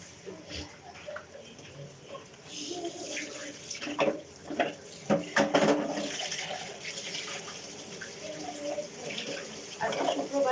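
Running tap water rinses a blender in a home kitchen while biryani meat is being cooked, an irregular splashing and trickling with a few louder clatters near the middle, fairly close and fairly quiet.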